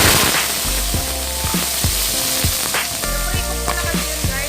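Sliced beef frying in a pan for Ilokano malungay buridibud, a loud continuous sizzle with rhythmic scraping stirs and light clinks throughout.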